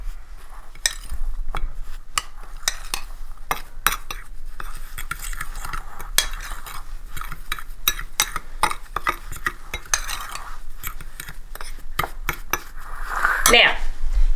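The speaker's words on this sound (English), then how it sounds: "I'm just going to give that a good stir" Ingredients for egg white bread being stirred in a bowl, with a steady run of rapid clinking and scraping strokes that grows louder toward the end.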